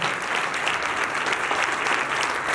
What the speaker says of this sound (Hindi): कुछ लोग ताली कमजोरी से बजा रहे,